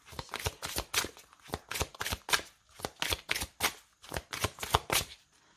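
Tarot or oracle cards being shuffled by hand for a card reading, a steady run of crisp riffling bursts with short pauses, close and fairly quiet, no voices.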